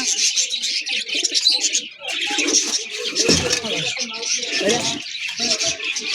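A mated pair of pigeons, male and female, coos steadily up close among other chirps and rustling, with a voice talking over the birds throughout.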